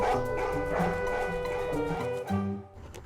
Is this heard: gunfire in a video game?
no